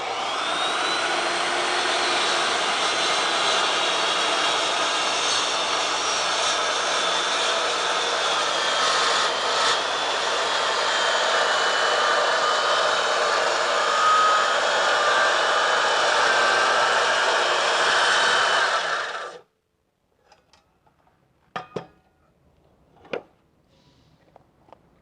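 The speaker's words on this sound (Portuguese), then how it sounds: "Vou ligar a serra antes de começar o corte." A portable circular saw runs and cuts wood with a loud, steady, high-pitched motor whine that holds for about nineteen seconds. The whine then stops abruptly, leaving near silence broken by a few sharp knocks.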